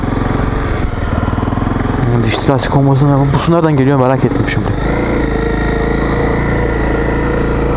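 A Honda CRF 250 Rally motorcycle runs through a muddy forest, its engine burbling and revving up and down in rising and falling sweeps under close, loud speech from the rider.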